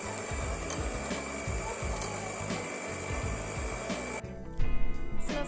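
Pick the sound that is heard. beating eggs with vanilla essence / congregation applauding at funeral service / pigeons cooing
beating eggs with vanilla essence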